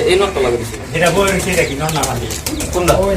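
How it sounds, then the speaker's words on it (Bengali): A jag gola pigeon coos in a loft, soft repeated calls sounding fairly close among the birds, with someone talking over them throughout. "এইখানে একটা জাগ গলা কবুতর বসে রয়েছে"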